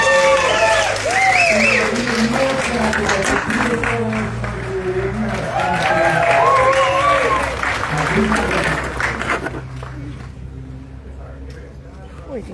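A crowd claps and cheers at a city band concert, sustained loud applause with shouts and voices over it, fading to a quieter tail near the end.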